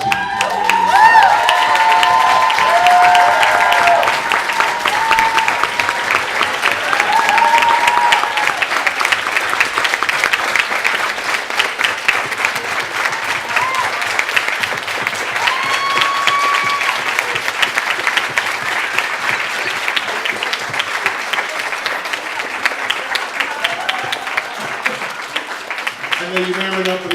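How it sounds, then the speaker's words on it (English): Sustained applause from an audience at a youth forum awards announcement, dense clapping and some cheering carrying on for nearly half a minute at a steady, loud level. "Can we get a round of applause, please, for the top team and the CA team?"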